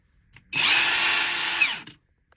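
Hercules Gen 1 impact wrench spins up in one loud, steady whine lasting about a second and a half, then winds down, heard alone with no talk.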